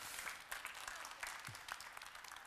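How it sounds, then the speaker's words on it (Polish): Applause from the audience at a billiards trick-shot championship, a faint, scattered patter of clapping heard from a distance, with no voices. "Brawa dla Ewy Bąk!"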